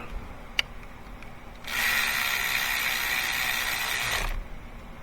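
A ratchet spins down lug bolts during steering work on a 2013 Hyundai Elantra, a rapid close clicking burr that starts after a single sharp tap, holds steady for about three seconds and then stops.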